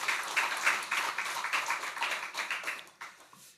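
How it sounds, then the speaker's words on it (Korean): A church congregation applauding at a Sunday worship service, a dense burst of many hands clapping that holds steady for a few seconds and then thins and fades out. "우리 다시 한번 경외 박수하겠습니다."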